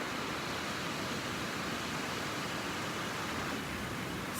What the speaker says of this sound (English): listening to the oceans, the waves coming in